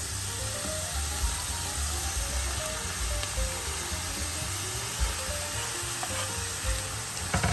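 Chickpeas and tripe sizzle steadily in a pan as chopped tomato goes in and gets stirred, with a soft continuous frying hiss and occasional scraping of the spoon.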